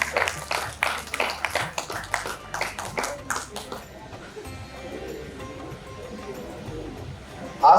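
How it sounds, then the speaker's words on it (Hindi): Audience clapping at a Hindi poetry gathering (kavi sammelan) in Ayodhya, welcoming a poet: a burst of dense, loud applause with sharp claps for about four seconds, then fading into a murmuring hall. "जरा जोरदार तालियों के साथ स्वागत कीजिए अजय कुमार मिश्र।"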